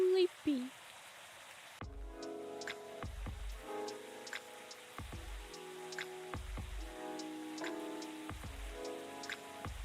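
Gentle rain ambience from the video game Coffee Talk, a soft steady patter running beneath a repeating melodic piano-like music loop, quiet and calm.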